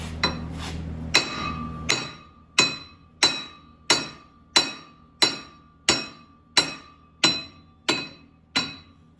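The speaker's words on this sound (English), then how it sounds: "I think we might need a bigger hammer." Sharp metallic hammer blows on the rear axle studs of a Ford Mustang's 8.8 axle ring out one after another at a steady rhythm, each strike leaving a bright clanging decay, close and loud.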